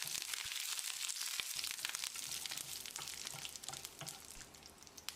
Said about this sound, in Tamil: கொஞ்சமாக கறிவேப்பிலை, 3 வரமிளகாய், ஒரு 10 செகண்ட் இதை பரட்டி விட்டுடலாம்.